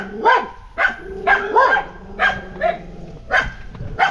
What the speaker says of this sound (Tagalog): Marami silang alagang aso.